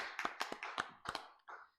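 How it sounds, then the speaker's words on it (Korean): A church congregation at a Full Gospel Sunday service gives a short burst of applause, about half a dozen sharp, close claps over under two seconds. "하나님께 영광의 박수 돌려드리겠습니다."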